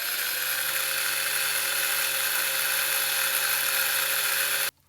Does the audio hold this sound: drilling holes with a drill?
yes